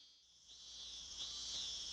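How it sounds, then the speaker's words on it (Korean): Cicadas drone in a hot summer apartment neighborhood, a faint, steady high-pitched buzz that swells slightly and continues without breaks, with no voices. "매미소리만 세차게 들려올 뿐 온 동네가 죽은 듯이 침묵에 잠겨 있었다"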